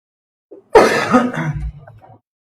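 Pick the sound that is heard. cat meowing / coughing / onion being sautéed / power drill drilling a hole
coughing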